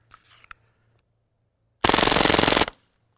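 Full-auto mini Uzi BB gun, officially licensed by Umarex from IWI, emptying a magazine in one loud, close, rapid burst of under a second, preceded by a few faint clicks.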